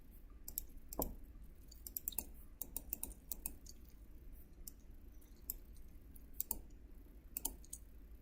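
Sharp, quiet computer mouse clicks scattered irregularly through the stretch, with a quick double click early on and a few more isolated clicks later, set against a low steady room hum.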